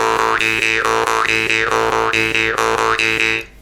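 A buzzing jaw harp with quick breathing in and out, the tone sweeping up and down in a fast, bouncy rhythm before cutting off.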